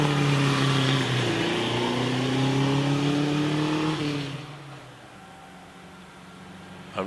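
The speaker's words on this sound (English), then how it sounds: "comes Tom Golland in the Morgan Aero" Vintage Morgan Aero racing up the Prescott hill climb course, engine loud and close with rising pitch through gears, then fading quickly as the car moves away into quieter distance.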